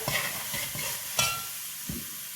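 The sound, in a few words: stirring onion, garlic and cilantro cubes into frying rice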